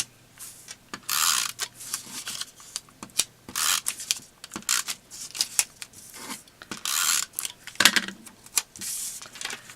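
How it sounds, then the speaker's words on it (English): A snail adhesive tape runner is dragged around a die-cut paper heart and its edges, giving close, dry bursts of rasping and clicking in uneven short strokes with quiet pauses between. "So I'm just going to use snail adhesive, just put some glue around the die cut heart and then around the edges."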